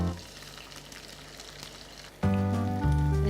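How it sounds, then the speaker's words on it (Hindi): Onions sizzle and crackle in a frying pan with a steady, moderate hiss, and a loud, sustained humming tone abruptly cuts in partway through and continues to the end. "अब हम प्याज को भी फ्राई कर लेते हैं।"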